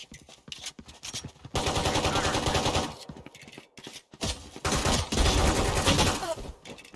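Sustained automatic gunfire in a competitive shooter game, in two loud stretches separated by short gaps, with scattered single shots and in-game effects at the start.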